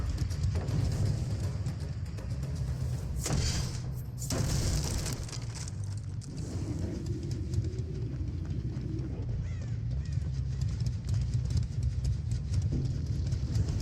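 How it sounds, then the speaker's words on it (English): Footsteps in the horror game Dead by Daylight, playing as the killer Freddy, a steady run of thudding steps under a loud, busy in-game soundscape with a few sharper cracks. "I can hear footsteps."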